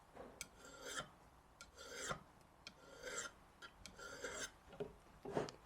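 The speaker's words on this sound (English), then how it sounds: "You can see how the diamond file is making really light work of that chisel edge there." A diamond file rasping across the chisel edge of a drill bit during sharpening, quiet repeated back-and-forth strokes in an uneven rhythm, close by with no talking.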